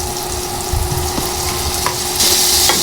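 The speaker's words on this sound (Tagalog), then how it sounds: "Tuloy lang ang paghalo." Pork sautéed with onion, garlic and tomato is stirred in a pan, a loud continuous sizzle and frying hiss with scattered spatula scrapes, close up and without talk.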